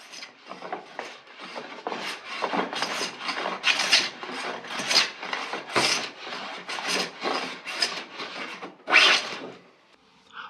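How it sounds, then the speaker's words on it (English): A hand plane smooths a wooden plank in a steady series of about twenty rhythmic rasping strokes, each a short hiss, close and moderately loud, with no one speaking. "I'm now smoothing down the plank after the majority of the stock has been removed to get it nice and smooth."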